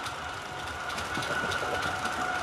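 A model steel coil train with sound-equipped wagons running on its track, giving a close, steady rumble with a constant humming tone and light rail clatter.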